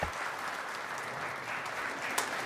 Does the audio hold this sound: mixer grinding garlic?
no